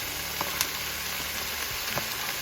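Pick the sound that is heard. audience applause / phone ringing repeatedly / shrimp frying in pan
shrimp frying in pan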